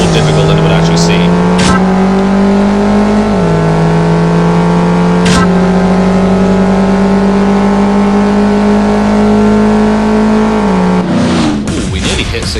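Car engine in CSR Racing held at high, steady revs with the throttle feathered, the pitch sagging briefly in small dips before a sharp drop near the end, loud and close throughout.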